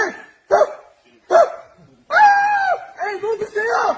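A human voice imitates a dog barking, several short yapping barks followed by longer whiny bow-wow sounds, close and loud, with no other sound between them.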